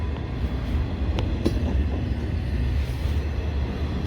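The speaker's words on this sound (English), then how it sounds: "This is a pretty long train and appears to be slowing down." A long train rolls slowly past on railroad tracks at night after a snowstorm, a loud continuous rumble of railcars with occasional clanks and squeals, without speech.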